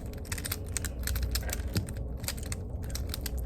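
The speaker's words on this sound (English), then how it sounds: "I like the noise that it makes, even though it is loud. Clacking." A handheld fidget toy being clicked and clacked repeatedly, producing a steady run of sharp, close plastic clicks like rapid typing, fairly loud and continuous with no voices.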